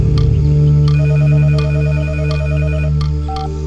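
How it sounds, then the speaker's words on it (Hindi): A phone rings in a Hindi-dubbed film scene as a steady electronic ringtone, heard over a loud music score with no talking. "उसी लड़की का फोन है बेटा।"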